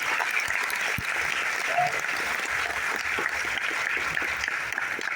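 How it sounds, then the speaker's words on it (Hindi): Audience applause filling a packed hall at a business plan seminar, steady dense clapping throughout with no break. "बेहतरीन तालियां बजाइए"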